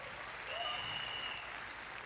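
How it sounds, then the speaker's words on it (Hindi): Audience applause at a civil engineering motivational talk, a faint, steady wash of clapping from a distant crowd that swells slightly midway and carries on throughout. "जोरदार ताली"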